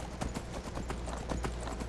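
Hooves of a slow horse clip-clop steadily on the ground in Skyrim's snowy land, an even walking rhythm of soft thuds under faint ambient noise.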